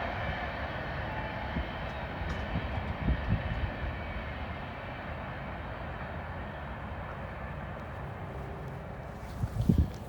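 A Norfolk Southern freight train rushes through an elevated curve, giving a loud, steady rumble and roar of rolling cars that holds for the whole stretch, with a few louder rattles and clanks near the end.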